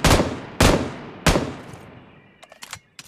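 Gunfire in the mobile battle royale game BGMI: three loud, sharp shots roughly half a second apart, each ringing out and decaying, followed by a few fainter quick pops further off.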